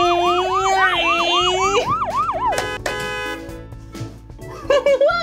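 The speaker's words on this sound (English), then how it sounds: "that horn was really loud" Fire truck siren wailing in rapid repeated sweeps, followed by a loud blast of the horn and a few shorter honks, close and loud.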